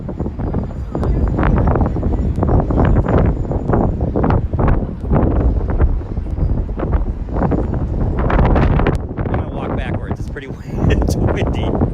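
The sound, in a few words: wind blowing on microphone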